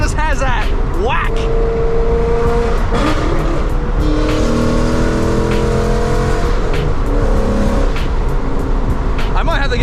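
A Gen 2 Mustang's exhaust revs up and down in repeated rising and falling bursts, loud and close, with people talking over it.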